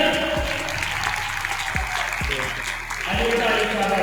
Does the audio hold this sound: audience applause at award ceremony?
yes